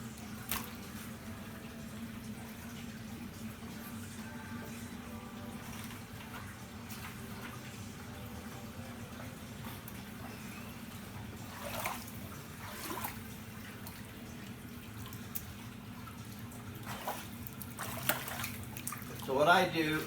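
Water runs steadily over a gum bichromate print being rinsed, a soft continuous wash with a low hum underneath, punctuated by occasional splashes and faint background sounds.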